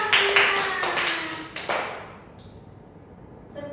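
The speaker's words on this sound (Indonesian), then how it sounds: "Beri tepuk tangan dulu dong." Primary schoolchildren in a maths classroom clap for a group, a short, fairly close burst of hand claps that stops after about two seconds, with a few scattered taps afterward in a quiet room.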